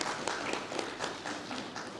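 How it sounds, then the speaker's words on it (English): A crowd at an indoor launch event claps for a mayor, a dense and even patter of many hands heard up close for a short stretch. "Let's give her a round of applause."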